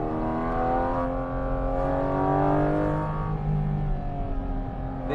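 A Porsche GT4 RS or 992 GT3 climbs through a mountain road in Italy, its engine loud and close, holding high revs with smooth rising and falling pitch through the gears. No one talks.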